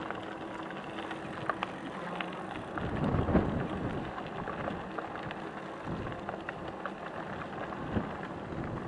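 Rain falls steadily during a bike ride on the White River State Trail. The patter stays constant throughout, with a few heavier thumps and gusts, and no one speaks.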